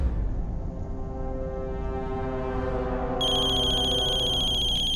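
A telephone ringtone plays continuously as a steady electronic melody, growing brighter and slightly louder partway through, with no talking.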